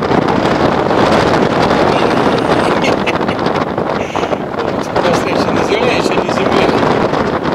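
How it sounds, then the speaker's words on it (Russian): Loud, constant wind roaring and buffeting right against the microphone outdoors at Vooremaa in eastern Estonia, filling the whole stretch with dense rushing noise. "вы поняли, насколько силен ветер"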